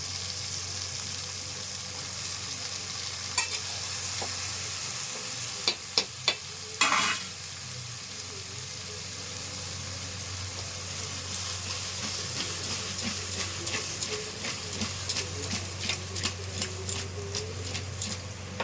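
Ivy gourd pieces frying in a pan over high flame, salted and stirred, with a steady loud sizzle and scraping spatula strokes, a cluster of sharp clicks midway and a run of regular scrapes toward the end, no voices.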